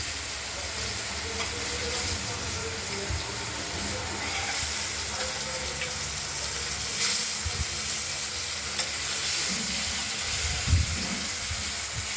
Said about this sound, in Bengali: মাছগুলো ভাজা হয়ে গেছে, আমরা তুলে নেব।